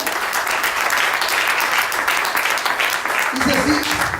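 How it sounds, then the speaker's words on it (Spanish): A church congregation claps steadily and loudly for several seconds, a dense wash of applause with a voice briefly rising near the end. "denle un aplauso más al Señor"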